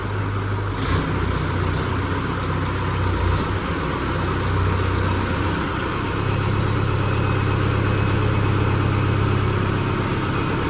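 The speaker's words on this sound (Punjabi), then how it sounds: "ਜਮਾਂ ਹੀ ਸਾਇਲੈਂਟ ਟਰੈਕਟਰ ਆ ਬਾਈ ਦੇਖੋ" A Mahindra 4x4 tractor engine idles steadily nearby with a low, even rumble that holds unchanged throughout, with no voices over it.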